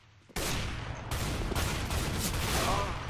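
Dense, loud gunfire bursts from a shotgun in CS:GO deathmatch, starting abruptly and continuing as overlapping blasts with a brief lull, sustained throughout.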